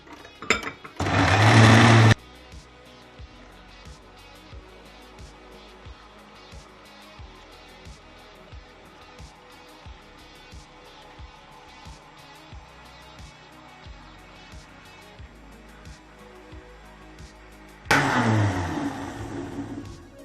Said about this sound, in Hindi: अब मैं इसे ब्लेंड कर लूँगी।